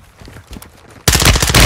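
Bursts of rapid gunfire from a Call of Duty match: quiet scattered pops at first, then a sudden loud, sustained volley.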